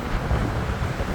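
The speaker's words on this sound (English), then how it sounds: "It is crazy windy." Strong gusting wind buffeting the microphone at a gate along the Pacific Crest Trail near the LA Aqueduct, a constant loud low rumble with no voices.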